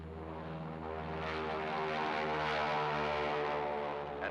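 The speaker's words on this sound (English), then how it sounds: "At 1-minute intervals, 7 F-13 photographic aircraft soared into the morning sky, followed by 2 C-54 photoplanes." A steady, droning roar from propeller-driven F-13 photographic aircraft climbing into the morning sky at a lagoon test site, swelling slightly as the engines pass, with no voices.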